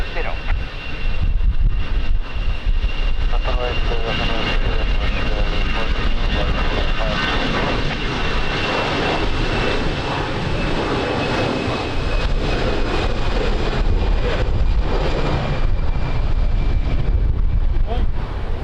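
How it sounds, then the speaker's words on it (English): Strong wind at Lisbon airport buffets the microphone in a continuous loud rumble, with a jet aircraft engine droning underneath and people talking throughout. "Está ventoso hoje. Está muito vento hoje."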